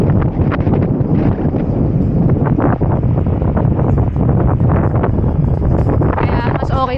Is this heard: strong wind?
yes